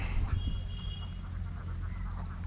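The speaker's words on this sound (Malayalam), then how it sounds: "താറാവ് തീർന്നില്ലേ? ഇനിയുണ്ട്." Ducks quack in a steady, close, busy flock, overlapping calls over a low, rumbling background.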